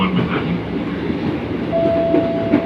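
KRL Bogor Line commuter train running near Cawang Station, a steady rolling rumble with rail clatter and a thin sustained whine rising toward the end, continuous and fairly loud with no talk.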